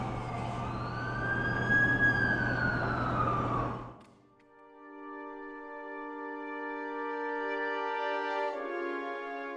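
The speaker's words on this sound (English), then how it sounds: "That's the ambulance I called." An ambulance siren wails loudly in rising and falling sweeps for a few seconds, then cuts off abruptly and gives way to sustained musical tones.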